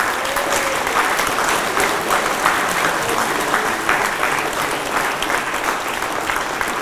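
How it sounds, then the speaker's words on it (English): Long, even round of applause from a conference audience at the IITA 50th anniversary event, dense steady clapping filling the room at a constant level for several seconds. "give him a really, really great applause"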